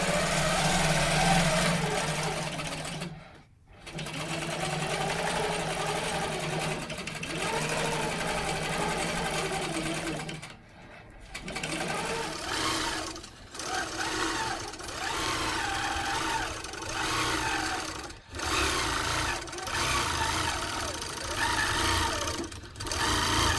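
A long arm quilting machine stitches a quilt in a rapid high whirring buzz, running in long stretches broken by several brief stops and restarts.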